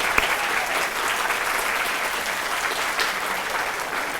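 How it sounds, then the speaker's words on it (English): An audience applauds children at the Putnam County Tax Collector's Kids Tag Art 2020 event, with sustained, even clapping from a crowd that stays loud and constant from start to finish. "But please join me in a round of applause for these great children"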